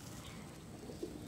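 A pigeon coos faintly once near the end of a short, quiet stretch of low background noise.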